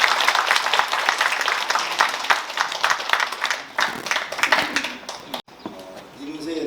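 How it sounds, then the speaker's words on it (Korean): Audience at a commemorative event for Kim Yu-jeong's 118th birth anniversary applauding after a folk song performance, sustained clapping that thins out and ends abruptly, followed by a voice beginning to speak. "다시 한번 박수."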